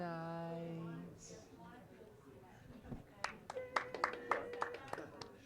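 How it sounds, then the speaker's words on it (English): A small backstage live-stream audience at the JUNOS claps briefly after a voice finishes talking, a short burst of scattered, fairly close handclaps. "I wasn't expecting a clap for that."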